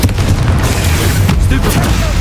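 Confringo explosive spells bursting in the game Hogwarts Legacy, a loud, dense run of booming blasts and crackles that fills the whole clip with barely any gap between hits.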